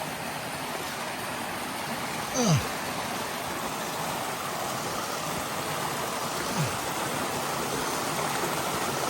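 A mountain stream at a trail water source rushes steadily along a hiking trail, a broad, even hiss of flowing water close by with no breaks.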